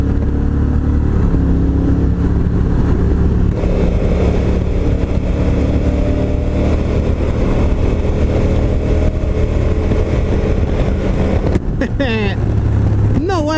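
Honda NT1100 touring motorcycle pulling under light throttle, a loud steady engine drone that holds for the whole stretch and rises briefly in pitch near the end.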